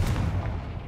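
The Confringo spell goes off in a Hogwarts video game as a single short, heavy, booming blast, close and loud, with a low rumble that fades quickly.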